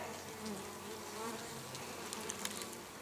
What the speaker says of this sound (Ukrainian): Бджілка спокійна, спокійна.